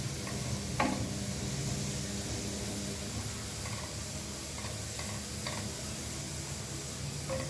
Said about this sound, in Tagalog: igisa natin siya hanggang sa mag-golden brown.